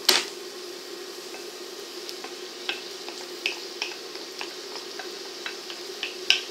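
Mixed vegetables for a piperade sizzle steadily in hot olive oil in a frying pan, with a constant frying hiss broken by scattered sharp clinks and taps of utensils against the pan.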